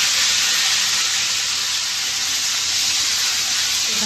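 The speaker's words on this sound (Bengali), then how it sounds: "তো কপিটা ভেজে নেব" Cauliflower pieces fry in hot oil in a pan while a papda fish curry is prepared, giving a loud, steady sizzling hiss that runs without a break and with no talking.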